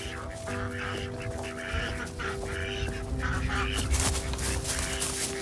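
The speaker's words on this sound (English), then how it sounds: "one of the male ducks is out" A male duck calls out in a loud run of rasping quacks and honks, with steady mechanical hum underneath and a burst of rustling near the end.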